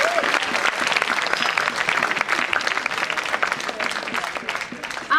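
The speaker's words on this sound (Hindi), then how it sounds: "एक बार आप तालियां बजा दीजिए" Dense audience applause at a Hindi-Urdu poetry recital (kavi sammelan), loud and sustained for several seconds with a steady mass of claps, a few voices mixed faintly underneath.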